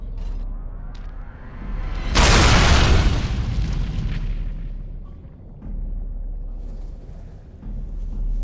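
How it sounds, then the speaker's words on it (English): A heavy booming crash as an anvil is destroyed in the video game Dragon Age: Origins, set in Orzammar and the Deep Roads. A sudden loud burst rises over low ambient rumble, then decays into a lingering rumbling tail. "I will destroy the anvil as agreed."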